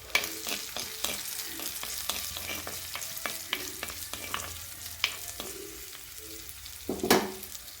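Chopped onion and garlic sizzle and fry in a pan while being stirred, with repeated scraping strokes for Tamil-style greens stir-fry, close and steady with no talking.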